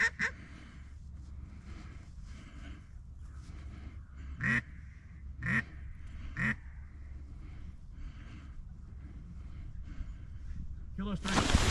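Ducks quack in a few loud bursts near the middle, alongside faint duck-call honks and nearby talk during a duck hunt over decoys, with rustling and low background noise throughout.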